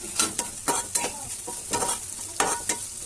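Onion, tomato, cumin and mustard seeds fry in a pan with a constant sizzle, and a spoon scrapes and stirs in quick repeated strokes; the sound is close and clear, with no speech.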